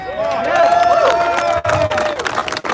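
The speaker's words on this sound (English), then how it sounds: "Y'all give me some more claps." Rally crowd in Washington DC clapping and cheering, a dense, loud wash of applause and shouts that swells and holds, with a few brief dips near the end.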